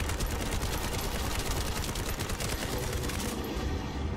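Continuous dense gunfire in a shooter video game, a steady unbroken roar of rapid shots at constant loudness that cuts off abruptly near the end.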